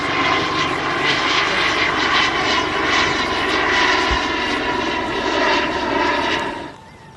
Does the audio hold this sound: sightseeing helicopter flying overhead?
yes